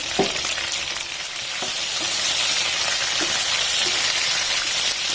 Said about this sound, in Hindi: इस ऑयल में 1/2 kg चिकन डाल देनी है। साथ ही इसमें जीरा डाल देना है 1 टीस्पून।